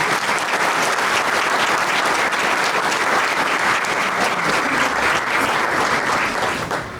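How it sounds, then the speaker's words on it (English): A large hall audience at a Hall of Fame ceremony breaks into sustained, dense applause that stays loud and steady from start to finish with no voice over it. "So a round of applause, please, for our communication team."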